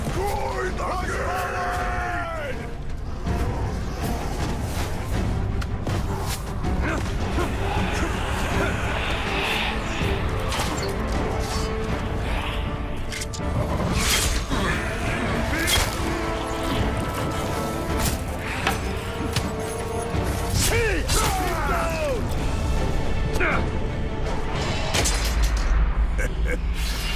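Massive gate being smashed apart in Middle-earth: Shadow of War, loud repeated crashing booms and impacts amid yelling and bellowing battle cries, with a dense, continuous roar of combat throughout.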